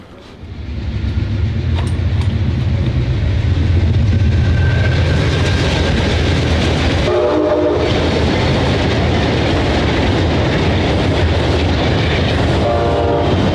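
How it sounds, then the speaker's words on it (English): An Amtrak eastbound Wolverine passenger train, number 352, rumbles past loud and close at a drawbridge, with steady rolling roar, wheel clatter and a short horn blast in the middle. "we caught Amtrak's eastbound Wolverine number 352."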